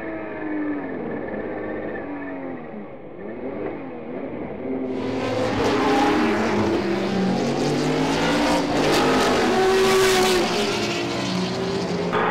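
Historic race cars passing at speed in a Bonhams Cup race, including a 1978 BMW M1 ProCar and a Mazda 767B, with loud howling engines sweeping by, Doppler pitch shifts, and a bigger roaring pack after five seconds.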